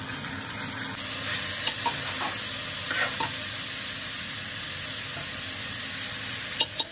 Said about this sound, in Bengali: তখন এর মধ্যে চাউলটা দিয়ে দিতে হবে।